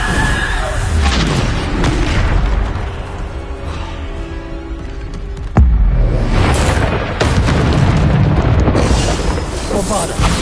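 Bombarda spell explosions in the video game Hogwarts Legacy, heavy booming blasts rolling one after another, loud and close, with a sharp burst midway and spell names spoken.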